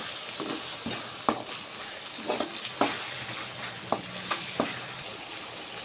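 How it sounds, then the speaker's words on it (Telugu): Fish curry sizzling in an oily pan as coriander and mint are stirred in, with scattered utensil scrapes and taps over a steady low frying hiss; no voices. "కొంచెం కొత్తిమీర, పుదీనా వేసుకొని ఒకసారి కలిపేసుకుందాం."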